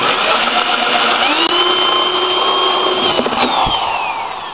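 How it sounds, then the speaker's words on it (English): Power drill boring holes in a plastic rail for a hydroponic lettuce setup, a loud, continuous high whirring whine that shifts pitch as the bit bites, close up with no talk. "Drill your hole out."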